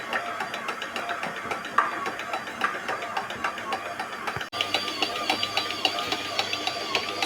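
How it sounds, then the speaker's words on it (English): An electric stand mixer kneads bread dough as flour is added, a steady mechanical whirring and rattling hum that runs loudly and continuously throughout, with one brief drop partway. "So this mixer doesn't like doing 2 at a time."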